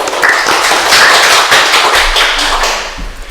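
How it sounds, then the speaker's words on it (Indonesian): A small group claps for a school principal welcoming him onto a school talk show, with close, loud, irregular hand claps and sharp taps that thin out toward the end. "ayo kita beri tepuk tangan dulu"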